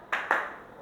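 Two sharp hand claps from students playing a clapping game in a high school classroom, spaced about a fifth of a second apart, close and clear against a quiet room.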